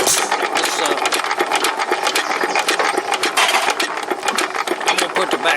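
Hit and miss engine running with a rapid, rattling mechanical clatter, loud and close, in a steady stream of fast beats with no pauses.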